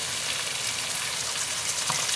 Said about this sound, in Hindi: 2-3 मिनट के लिए भून लेते हैं।